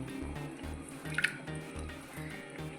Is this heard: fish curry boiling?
yes